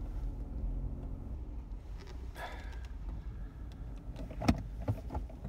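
A car reverses slowly in a car park, a low steady engine rumble from inside the cabin with a couple of soft thumps near the end.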